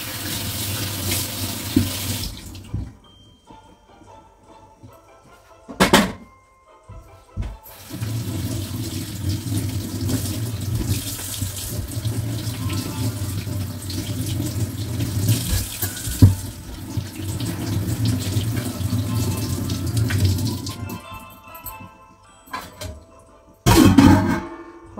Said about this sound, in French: On lave les carottes.